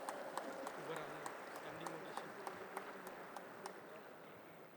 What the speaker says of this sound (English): May we have a huge round of applause for all the dignitaries present here.